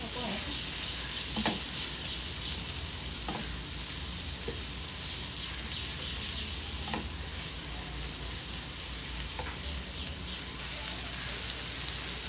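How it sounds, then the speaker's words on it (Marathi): A hot tawa sizzles steadily as cabbage and carrots are stirred into leftover rice pulao, with scattered scrapes and clicks of a spatula under a constant, rain-like frying hiss. "त्यात कोबी गाजर सर्व टाकून घेते भाज्या। हे सर्व आपण मिक्स करून घेऊया व्यवस्थित।"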